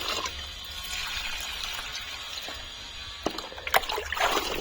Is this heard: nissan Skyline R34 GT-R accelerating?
no